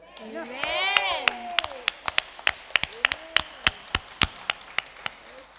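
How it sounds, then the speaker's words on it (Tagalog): A church congregation claps in a steady, evenly spaced rhythm of sharp, fairly close beats during a healing service, starting under a preacher's voice and carrying on alone for several seconds. "Yung palakpak nyo, okay na yon."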